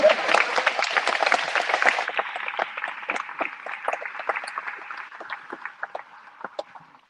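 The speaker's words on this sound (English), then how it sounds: "now you can applaud him." An audience applauds in a hall, dense clapping at first that thins into scattered, fading claps.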